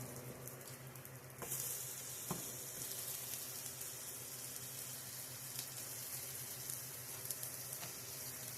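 Sausage frying in a pan on a wood stove gives a steady, close sizzle that holds for the whole stretch, with a few soft clicks and scrapes mixed in and no talking.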